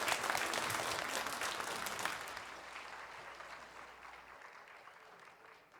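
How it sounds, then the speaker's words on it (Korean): A church congregation at a Sunday worship service claps together in dense, steady applause that gradually fades out over several seconds. "하나님께 영광의 박수 올려드리겠습니다."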